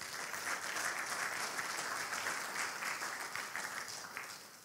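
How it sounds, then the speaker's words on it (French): A church congregation applauding to acclaim the Lord, dense sustained clapping from many hands filling the room, steady and fairly loud throughout, fading slightly at the end. "Pouvons-nous acclamer le Seigneur?"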